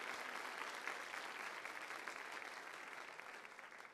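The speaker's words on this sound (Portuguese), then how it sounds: "Então dá uma salva de palmas para Jesus" Congregation applauding at a church service, a dense, steady wash of many hands clapping together that stays fairly even and slowly fades a little toward the end.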